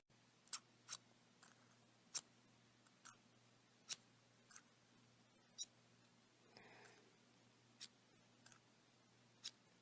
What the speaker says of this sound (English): The scissors sound so nice.